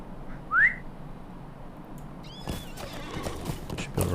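A horse neighs once, loud and close, as a rider mounts up in the online fantasy game The Lord of the Rings Online, with a soft hoof clop and an ambient outdoor bed that brightens near the end.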